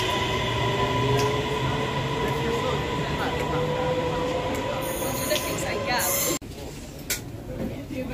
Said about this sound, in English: So this is the train we're gonna take